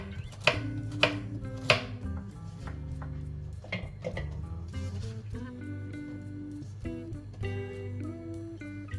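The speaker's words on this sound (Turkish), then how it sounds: "Havuç kullanacağım bir adet. Halklı şeklinde doğrayacağım." A knife chops a single carrot into rounds on a board, a few sharp strikes at first and then lighter, quicker cuts, all close and heard over soft background music.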